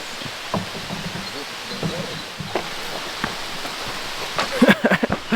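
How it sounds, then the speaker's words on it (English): Heavy, torrential rain pours down in a national forest in West Africa as a storm breaks, a steady hiss of rain with scattered patters and rustles, plus a few louder knocks near the end. "It started to rain right now."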